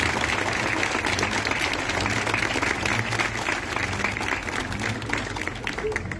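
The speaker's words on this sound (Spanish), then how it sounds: "El aplauso bien fuerte para nuestro jefe de la UTI pediátrica." An audience claps loudly at the inauguration of a pediatric intensive care unit in a hospital. The applause is dense, sustained and steady for about six seconds, with crowd murmur mixed in.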